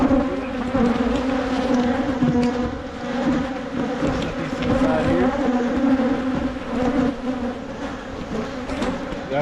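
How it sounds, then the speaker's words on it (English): A full box of honey bees in an opened hive hums steadily during a fall inspection, a dense, close, continuous buzz that swells and dips slightly over the whole stretch with no voices on top. "That's a full box of bees."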